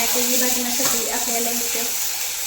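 Chopped tomatoes tossed into a hot pan with onions for egg masala, a steady hiss of sizzling with a brief stirring clatter, moderately loud and close without speech.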